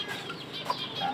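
A hen in a backyard gives a few soft, close clucks over a quiet, slightly noisy background.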